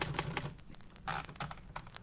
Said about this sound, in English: There was a typewriter, and I tried it.